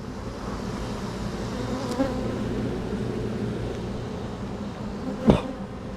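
Honey bees buzz in a continuous, droning hum, a close and steady swarm sound with a couple of brief bumps and knocks nearby, no voices.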